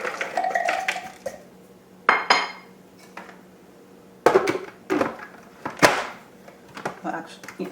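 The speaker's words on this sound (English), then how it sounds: "we are going to put the cashews in the food processor" Cashews clatter into a food processor bowl in several sharp, close bursts of hard clinks and rattles, separated by quiet gaps.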